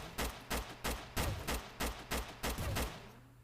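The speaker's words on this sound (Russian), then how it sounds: "Как вы видите, этот помощник стреляет достаточно близко." Gunfire from a helper unit at a military base in the Roblox game Tower Defense Simulator: about nine evenly spaced, fairly quiet shots in a steady rhythm, then fading.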